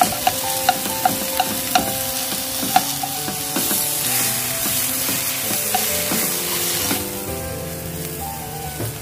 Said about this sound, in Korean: 들기름 넣어서 이렇게 볶다가 소금, 마늘 이렇게 같이 넣어서 달달달달 볶아주시면 됩니다